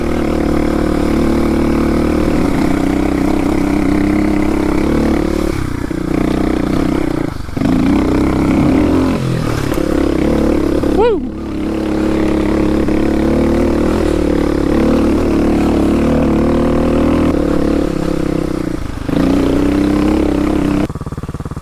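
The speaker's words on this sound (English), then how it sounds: "My bike's running like a bag of shit." Motorcycle engine idling after its pilot screw was turned out a couple of turns while running rough in cold weather, a loud, close, steady throb with slight uneven wavers throughout.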